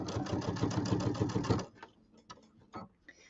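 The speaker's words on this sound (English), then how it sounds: "I'm going to stitch about one stitch inside that basting line." Sewing machine running steadily for about a second and a half as it stitches just inside a basting line, a fast even mechanical chatter, then stopping and leaving only quiet handling clicks.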